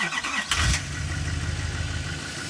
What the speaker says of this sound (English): Now I can go ahead and start my truck.